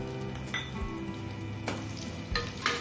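Carrot pieces go into browned onions in a pan for paneer masala curry, and a steady loud sizzle of frying follows, with a few brief stirring clatters and no voices.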